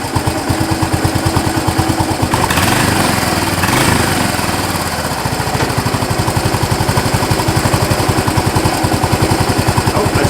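Yamaha SR250 motorcycle engine running close by, a loud, fast, even single-cylinder thump throughout with a short rev swell in the middle, no talk.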